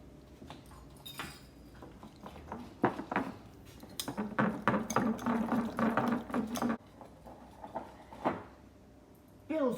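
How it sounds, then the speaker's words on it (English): Cheese blintz batter whisked in a bowl: close, rhythmic clinking and scraping of the whisk that speeds up into a steady rattle, then stops, with a brief voice nearby. "It's whisk time."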